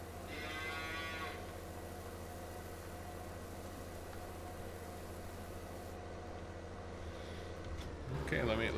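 Cattle in the Farming Simulator 19 video game: a clear, drawn-out moo at the start, then a steady low rumble of farm ambience and another short lowing near the end, with someone talking over it.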